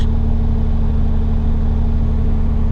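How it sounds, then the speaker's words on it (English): A Nissan 300ZX engine idles a little high after warming up, a steady, continuous low rumble that holds even throughout with no revving. "It's still idling a little high"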